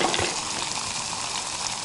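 A pot of water comes to a rolling boil on a small hiking stove out on the trail. It gives a steady, close, hissing bubble with no voices over it.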